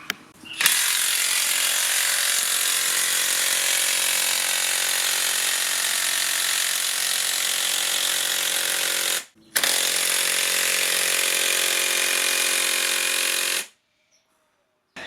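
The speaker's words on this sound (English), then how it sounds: "Let's try the 100mm auger." Makita power tool spinning a 100mm earth auger, a loud continuous mechanical whine and rattle that runs for about nine seconds, cuts out briefly, then resumes before stopping abruptly.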